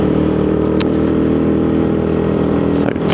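A WK Diablo motorcycle engine drones loud and steady on a test ride, a dense continuous rumble heard up close throughout with a slight wobble near the end, no talking over it.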